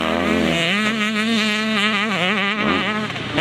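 Motocross bikes drift and power-slide through corners, loud buzzing two-stroke engines revving steadily with rising and falling pitch, close and continuous.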